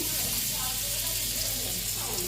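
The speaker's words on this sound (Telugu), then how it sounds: "ఇది బటర్ పన్నీరు ఫ్రై చేస్తున్నాం" Butter paneer fries in a pan with a steady, close, hissing sizzle that holds evenly throughout, with a voice talking faintly over it.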